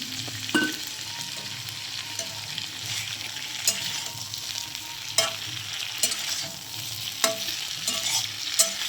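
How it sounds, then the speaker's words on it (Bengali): Vegetables and ginger paste fry and sizzle steadily in a pan for Bengali shukto, with a spoon stirring and scraping at intervals, giving sharp clinks over the continuous hiss. "দিয়ে আমি কিছুক্ষণ ভালোভাবে নাড়তে থাকবো, যাতে ভালোভাবে মশলা এবং সবজিগুলো ভালোভাবে ভাজা হয়ে যায়।"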